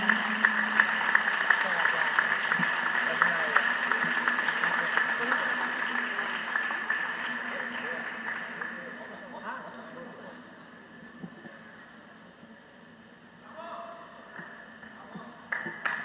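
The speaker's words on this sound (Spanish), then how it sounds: "Un aplauso, por favor." Sustained applause from a crowd at an awards ceremony, dense clapping that gradually thins and fades, with a few scattered claps near the end.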